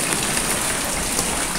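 Light drizzle falling on rain-soaked trees, including mango trees, on a morning with a breeze: a steady, soft, even hiss of rain across the whole short stretch, with no voices.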